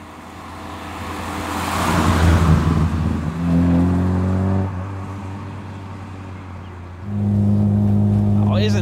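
A Lada Riva's engine drones from inside the cabin while driving, its low hum rising as the car accelerates, easing off and then climbing again, and someone talks over part of it.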